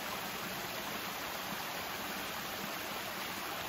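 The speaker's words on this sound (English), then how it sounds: "This waterfall is so cool." A waterfall pouring over an overhanging rock ledge in upstate New York autumn woods, a steady, dense rushing roar with no breaks, close and even throughout.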